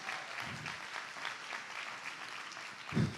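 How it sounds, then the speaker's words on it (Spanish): Church congregation applauding first-time visitors, a soft, fairly faint wash of clapping held steady for a few seconds, with a low thump near the end. "Le damos un aplauso a nuestros VIPs, los que nos acompañan por primera vez."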